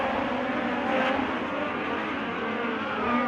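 A USAC midget race car at Sweet Springs grinds through the corner, a steady, loud engine roar with a gritty mechanical whir that holds without pause. No talk is heard.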